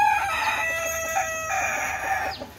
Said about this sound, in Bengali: এই আয়াম সিমানি মুরগিগুলা